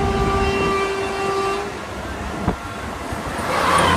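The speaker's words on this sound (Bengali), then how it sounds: "তো বন্ধুরা এটাই হতে চলেছে হাওড়া থেকে দীঘা যাওয়ার একমাত্র লোকাল ট্রেন।" A Howrah to Digha local passenger train runs with a steady rumble and hum, steady tonal components fading after about two seconds, and a single brief click near the middle; no talking.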